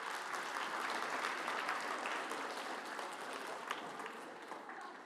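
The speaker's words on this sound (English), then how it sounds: "Another round of applause for Mrs. Ulmer." A crowd gives a sustained round of applause, a dense, even wash of clapping at moderate distance that tapers slightly as it goes on.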